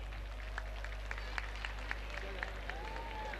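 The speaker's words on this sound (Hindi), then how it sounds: "जरा जोर से तालियों से स्वागत कीजिए।" Sparse claps from an audience at a school annual day function welcoming a guest onto the stage. The claps rise over a constant low electrical hum, with faint voices mixed in.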